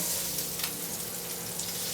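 Jalapenos and chicken sizzle steadily in a hot pan as they brown, close and continuous, with a brief clatter at the very end.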